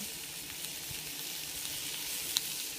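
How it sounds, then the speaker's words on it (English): Potatoes and vegetables browning in a small pan, an even, close hiss of frying with a single faint tick near the end, no talking. "Now I'm going to brown all the vegetables, and then I'll show you what it looks like"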